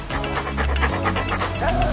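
Clifford, a big red dog in a movie scene, pants rapidly and close, a quick rhythmic run of breathy huffs lasting about two seconds.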